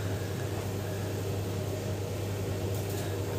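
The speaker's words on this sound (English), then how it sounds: "I'm sorry about the background noise, that's my washing machine." A home washing machine runs in the background, giving off a steady low hum and a constant wash of noise with no change throughout.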